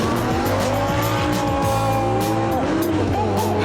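A supercar launches hard using launch control, its engine screaming up through the revs with a changing whine and tire noise, loud and close.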